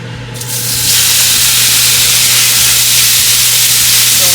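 Pork sizzling loudly and steadily in a hot pan, a dense continuous frying hiss that swells after the first half second and holds without pause while the meat browns for fried rice.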